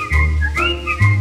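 A person whistles a bright, lilting phrase imitating a chaffinch's song, clear and close, with gliding pitch changes over about a second, accompanied by low sustained tones from a dance orchestra.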